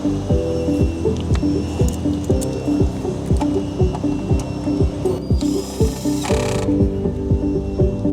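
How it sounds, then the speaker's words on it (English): A torque wrench tightening screws on an outdoor battery energy storage cabinet, close, rapid repeated ratcheting clicks in a steady rhythm with a brief break. "Now we install all the screws and tighten them with the torque of 8 Newton meter."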